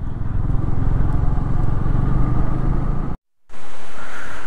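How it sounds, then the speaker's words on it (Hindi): A motorbike rides across an iron bridge on a winter mountain road in Sikkim, between Lachung and Mangan, with a loud, continuous engine and road rumble that cuts out abruptly before resuming. "आयरन ब्रिज पे जैसे ही बाइक जाता है"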